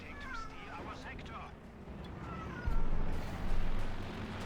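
A distressed house cat meows several times in the background, wavering cries at moderate distance under game audio with explosions and other noise.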